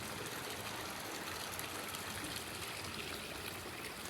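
Water running steadily into a small outdoor mini pool, a constant close-up gushing and trickling wash with no pauses.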